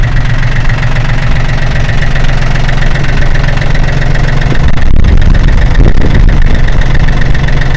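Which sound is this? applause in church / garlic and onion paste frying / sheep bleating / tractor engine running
tractor engine running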